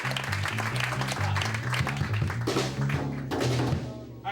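An audience at a live comedy show at the UCB Theater in New York applauds a band, with a dense burst of clapping mixed with music and some voices.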